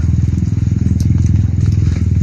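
A loud motorcycle engine runs close by with a steady, throbbing, rapid pulse, holding constant throughout without a clear pass-by.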